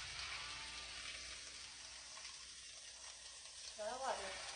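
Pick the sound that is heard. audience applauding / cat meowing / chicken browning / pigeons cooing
chicken browning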